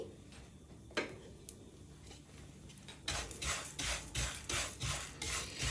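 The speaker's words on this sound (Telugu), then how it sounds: "ఇప్పుడు ఈ సేమియాని దీనిలో వేసి వేయించుకోవాలి. లో ఫ్లేమ్లో పెట్టి మాడకుండా వేయించుకోండి." Vermicelli frying in oil on a low flame while a spoon stirs it, giving faint scraping and rasping strokes against the pan that grow louder and more rhythmic partway through.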